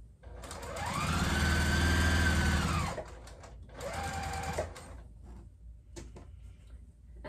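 A sewing machine stitches a baby quilt with batting in a steady, loud whirring run of about three seconds. A shorter burst follows after a brief pause, then a few faint clicks, with no talking.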